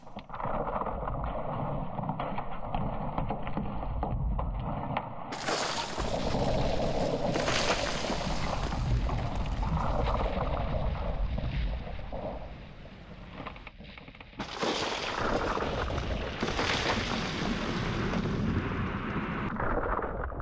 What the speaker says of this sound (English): It's the sound of glaciers with the history of tens of thousands of years collapsing.